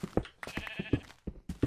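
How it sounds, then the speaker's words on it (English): Sheep bleat in a Minecraft game, several short wavering bleats coming at a steady pace, fairly close and moderately loud, with no talk over them. "I'm hearing sheep."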